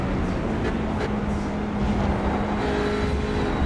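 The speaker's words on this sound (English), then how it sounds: "Right on the limit of that little 4-cylinder Audi, screaming away as they head up the hill." A small 4-cylinder Audi race car strains near its limit uphill on the Nürburgring in a racing sim, a steady loud engine drone with a faint rising tone throughout.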